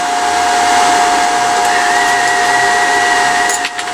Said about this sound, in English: Well, it's feeding the wire, so that's good. It's speeding up slightly.